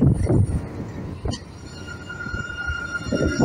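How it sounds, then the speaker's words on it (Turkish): A Bursa city tram rolls past with a steady low rumble and faint metallic rail squeal, moderately loud and close, heard alone without speech. "Devir Tramvay."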